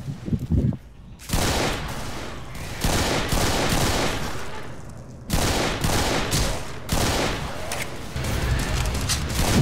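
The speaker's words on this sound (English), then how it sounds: "I just shot you" Sustained gunfire in Left 4 Dead on the Dead Air map, loud bursts of shots and booms filling most of the stretch after a brief quiet start, with a short lull midway.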